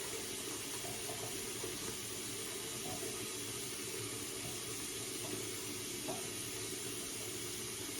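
Steady water runs in a shower during face washing with a cleanser, a constant even hiss and splash that holds close and unbroken throughout, with no talking.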